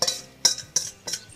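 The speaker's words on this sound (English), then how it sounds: "We're gonna just gently mix dressing into the salad." Salad greens with dressing are gently tossed in a bowl, giving four soft, evenly spaced rustling swishes, close and clear, with no talking.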